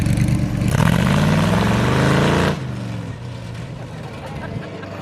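A 5-liter V8 golf cart at a local car show revs hard and pulls away, its engine note climbing loud and close before dropping off abruptly and fading to a lower rumble.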